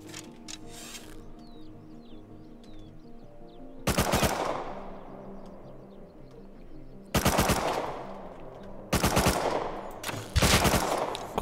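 Bursts of automatic video game gunfire in a first-person shooter, three loud rapid volleys separated by quieter ambient game sound with faint birdsong and distant shots between them.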